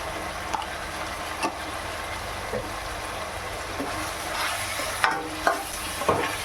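Steady sizzle of chicken frying with chilli powder and spices in a pan for a Tamil chicken curry, broken by occasional scraping stirs and clacks of a spatula.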